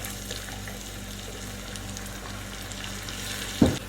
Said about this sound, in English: now I'm going to add my blanched spinach